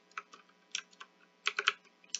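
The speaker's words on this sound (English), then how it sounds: "That was, like, extremely slow typing." Slow, uneven keystrokes on a computer keyboard, a handful of soft clicks spaced out with pauses and a short cluster near the end, close and quiet.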